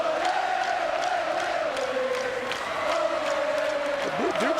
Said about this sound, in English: Dukes crowd's making a lot of noise